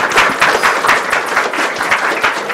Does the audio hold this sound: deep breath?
no